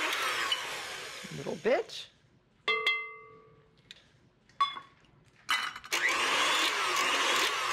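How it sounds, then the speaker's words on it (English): An electric mixer's beaters whir loudly while folding flour into tiramisu batter, running in several bursts broken by brief pauses, with a voice talking in between. "So now finish off the folding process with your beater."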